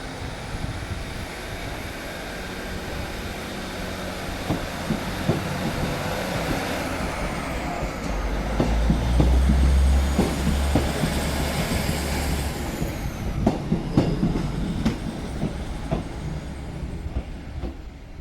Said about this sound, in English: here by me is the Jacobite steam train, on a separate journey to Mallaig